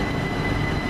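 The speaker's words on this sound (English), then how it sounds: "It's now leaving, heading empty stock into the depot at West Ham." An empty stock train pulling out toward the depot at West Ham, London, heard as a loud, steady, close rumble of wheels and motors lasting under a second.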